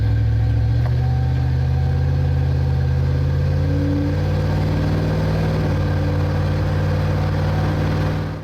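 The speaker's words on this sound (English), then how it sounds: "the same as this, the 4-litre Thor V8" The 4-litre Rover V8 engine of a Land Rover Discovery 2 runs steadily, a loud, even low-pitched drone with a faint rise and fall, close up and with no talking.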